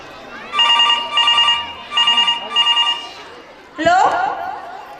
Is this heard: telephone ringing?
yes